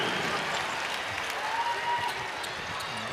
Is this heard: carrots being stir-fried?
no